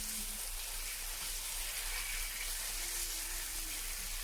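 Continuous, even sizzling and hissing of sirloin steak frying on a hot tawa, close by and moderately quiet, with no voices.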